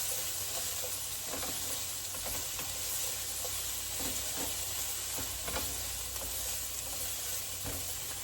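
Turkey sausage rounds sizzle steadily as they brown in a stir-fry pan, a constant close hiss with faint periodic stirring taps throughout, no voices.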